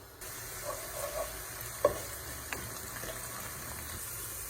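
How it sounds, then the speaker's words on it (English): Steady sizzling from onion sautéing in oil in a pan, a continuous crackling hiss with a couple of sharper pops, close by and no talking. "we're gonna let this onion saute"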